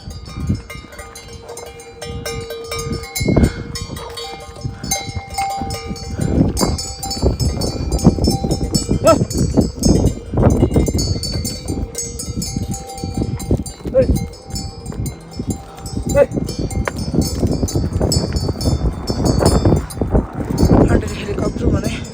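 Bells on passing yaks jangle and clank steadily along the Everest Base Camp trek in Nepal, with hooves clopping beneath and people talking nearby throughout.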